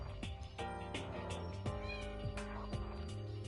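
Meowing from a cat in a room, a run of drawn-out, wavering cries following one another close and loud, with no voices over them.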